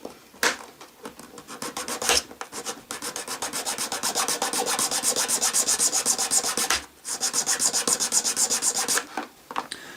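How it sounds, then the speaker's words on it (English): A hand file rasps across the end of a soft Perspex rod in fast, close, rhythmic strokes that run into a long continuous stretch, pause briefly, then resume. "I'm just going to use a file here to file around the end of this rod until I've managed to get it down to about 4mm"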